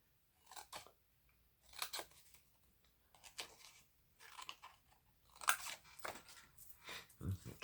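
Paper being cut out with scissors in a craft setting: several separate bursts of crisp snipping, close and moderately loud, with short pauses between the cuts.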